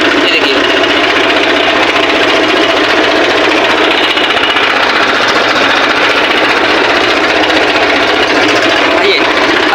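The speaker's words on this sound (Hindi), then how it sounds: "धीरे धीरे मैं इसको ऐसे छोड़ूंगा तो ये ट्रैक्टर अपना मूव करेगा।" Tractor engine running steadily with a loud, continuous mechanical drone and rhythmic knocking, as the clutch is slowly released and the tractor starts to move.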